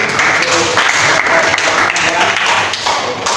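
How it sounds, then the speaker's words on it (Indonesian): Classroom audience of students clapping together in a dense, continuous burst of applause, loud and close, lasting the whole few seconds. "ya kasih aplaus sekali lagi"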